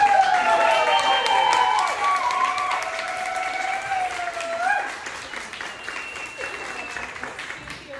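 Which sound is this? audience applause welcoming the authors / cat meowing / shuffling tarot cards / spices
audience applause welcoming the authors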